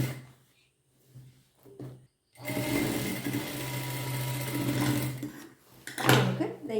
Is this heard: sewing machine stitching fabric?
yes